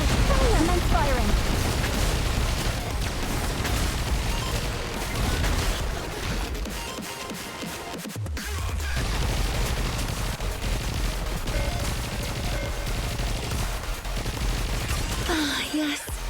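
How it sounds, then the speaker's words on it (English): A missile barrage fires in NIKKE, a dense, continuous roar of rapid launches and explosions that stays loud for the whole stretch, dipping briefly midway before resuming under game music and effects. "Missile container online. Overhead. Commence firing."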